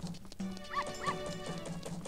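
A dog from the N64 game The Legend of Zelda: Majora's Mask yelps in two short whining barks over steady game background music and pattering footstep sounds.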